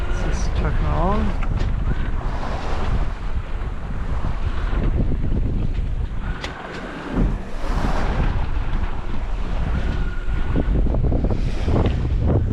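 Wind roars against the microphone as waves wash and slap around a sailboat under autopilot near Whangarei, New Zealand, loud and continuous, with a brief lull partway through.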